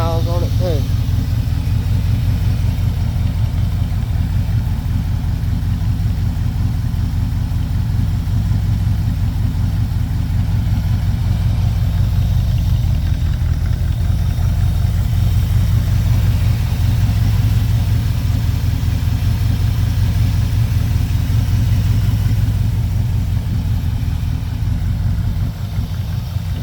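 A 1965 vehicle's engine idles after a cold start, a steady, loud low rumble held close and even for the whole stretch with no revving.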